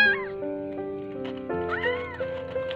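An abandoned kitten cries at a market: a few high, wavering meows, one early and a louder pair midway, over a steady backdrop of humming tones and low rumble.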